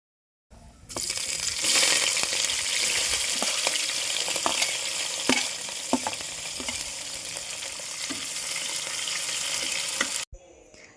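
Bay leaf, cinnamon and cloves fry in hot oil in a cooker, giving a steady broad sizzle for about ten seconds, with occasional stirring clinks and pops, no voices, ending abruptly.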